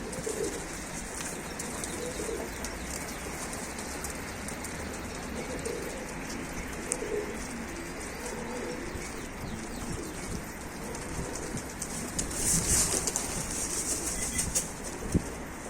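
Soft cooing of tumbler pigeons at a coop and scattered bird calls outdoors over a steady hiss like light rain, with a brief burst of flapping wings near the end.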